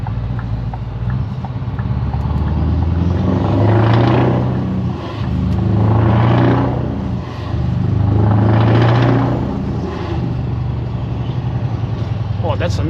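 A Scania R500 V8 truck's loud exhaust revs repeatedly while circling an industrial estate, with three or four rising and falling surges reverberating off surrounding buildings, steady engine rumble between them.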